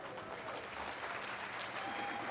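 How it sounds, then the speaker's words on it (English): Faint, distant crowd clapping at an outdoor beach volleyball event, a short, steady wash of applause with no voices. "please clap the hands, a big, big applause for everything what's happening here this weekend"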